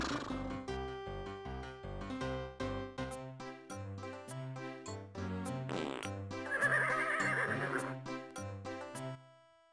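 Synthesized horse neigh and fart effects from the Freddy Pharkas video game, loud and close, with a stepped, tonal whinny followed by a long, noisy blast, sounding alone with no talking.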